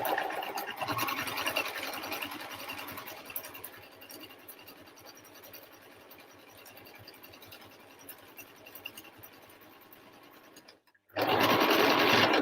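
A sewing machine top stitching a bucket hat beside a silver presser foot whirs steadily and close for about eleven seconds, stops for a brief pause, then restarts louder.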